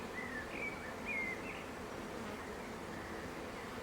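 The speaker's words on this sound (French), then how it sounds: "Un petit essaim qui provient certainement de mes ruches" A small swarm of honeybees settled in a plum tree hums as a steady, even drone, with a few louder buzzes from individual bees passing nearby and no talk.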